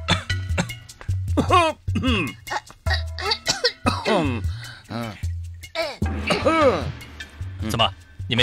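Several rough coughs and throat-clearing sounds come from a person in a Republic-era Chinese drama scene, close and loud, interleaved with spoken dialogue.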